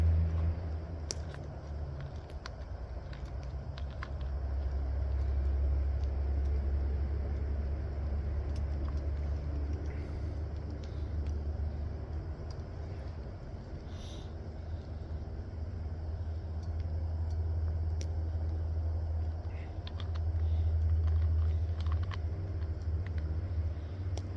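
Steady highway traffic on Highway 19 in Perry, Florida, a continuous low rumble of cars and trucks passing at a moderate distance, swelling and easing over time with no talk.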